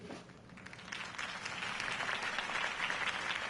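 Crowd applause in a Telltale Batman video game after Harvey Dent's campaign speech, a dense wash of clapping that swells steadily and stays loud throughout.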